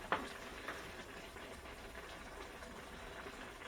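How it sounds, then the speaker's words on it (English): Oil sizzling in a pot of cooking beans, a faint steady frying hiss with a couple of small clinks near the start. "I think I am gonna put a little oil in there."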